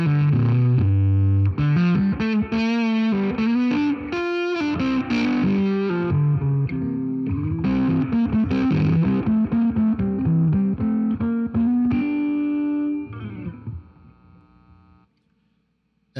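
An electric guitar runs through a 424 MKII preamp with the gain turned up and low input impedance, giving a loud, heavily distorted tone. Sustained chords and riffs play continuously, then fade to a ringing decay near the end.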